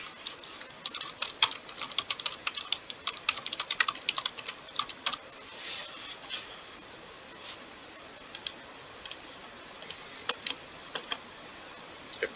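Rapid clicking keystrokes on a computer keyboard as a short note is typed, bursts of close, light taps with brief pauses, then slower scattered presses toward the end, with no voices.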